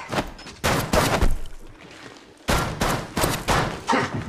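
Bursts of gunfire in the mobile battle-royale shooter Apex Legends Mobile, two loud clusters of rapid shots separated by a quieter gap, close and punchy.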